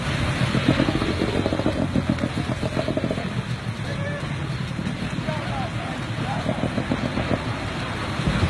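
A motor vehicle engine running near a crowd on a beach in Indonesia, a continuous rumbling drone with wind noise over it and indistinct voices mixed in throughout.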